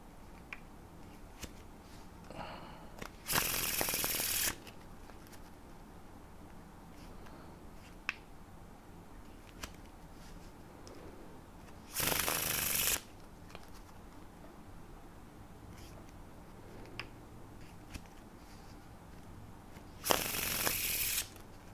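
Playing cards riffled together in a faro shuffle, heard as three loud, dense bursts of rapid clicking spaced several seconds apart, with faint handling noise between them and no talking.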